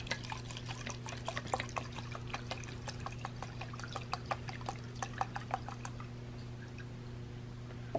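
Liquid bed liner hardener pours steadily into a spray bottle, with small drips and gurgles scattered across it, over a constant low hum.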